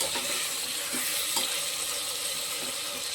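Steady loud sizzle of food sautéing in a pan while peas are being cooked, with a few faint scrapes of a spoon against the pan, continuous and close.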